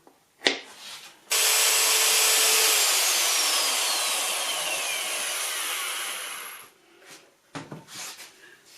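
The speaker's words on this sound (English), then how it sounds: "routing out the hole for the inserts, and then switching back to the 11 millimeter and cutting this out" A wood router cuts an inlay hole in a cutting board with an 11 mm bit, giving a loud, steady high-pitched whine that runs for about five seconds and then winds down, with a few brief clicks and knocks before and after.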